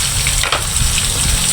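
Onion and garlic sautéing in a pan for pinakbet, a loud, close, continuous frying sizzle with a brief stir-like swish partway through and no talking.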